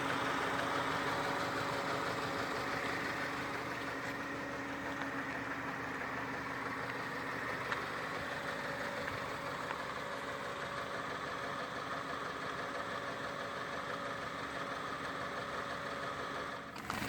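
A 2018 BMW X1 sDrive20i with a 2-liter turbocharged inline four-cylinder idles at a steady, even hum. Its faint, low drone holds constant for the whole stretch, with no speech.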